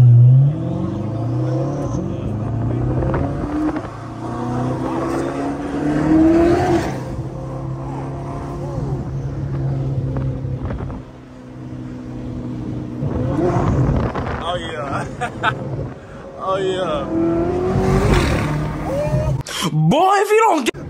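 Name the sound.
built Chevrolet C8 Corvette engine revving with exhaust pops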